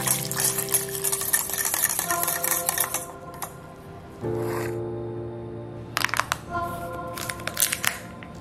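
Cold water is poured into powdered gelatin to soak it for a peach dessert, a rushing stream that stops and starts over several seconds amid kitchen clatter.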